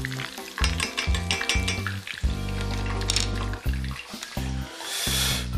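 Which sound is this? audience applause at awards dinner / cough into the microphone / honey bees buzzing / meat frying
meat frying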